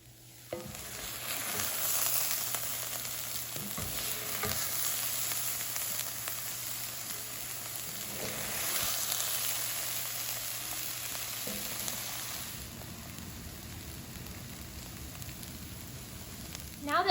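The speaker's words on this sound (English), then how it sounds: "I'm just waiting for some of these water bubbles from the soy curls to evaporate" Soy curls sizzle and fry steadily in a hot pan as their water bubbles off, a continuous close hiss with faint stirring scrapes, no talking.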